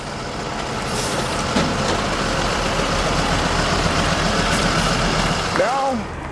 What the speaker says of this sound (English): the bus is starting to build up air.